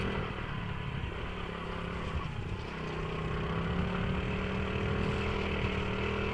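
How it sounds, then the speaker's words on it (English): A 1997 Honda 50R, a 50cc dirt bike with a semi-automatic three-speed transmission, runs with a steady buzzing drone at fairly close range and rises slightly in pitch partway through. "This thing's quiet too. It's only 50 cc's, but it's got a semi-automatic 3-speed transmission"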